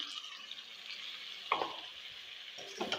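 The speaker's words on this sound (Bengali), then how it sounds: "এখানে জিরা আদা কাঁচামরিচ দিয়ে দিলাম" Cumin, ginger and green chillies sizzle in hot oil in a frying pan, making a steady close hiss with a couple of brief scraping stirs.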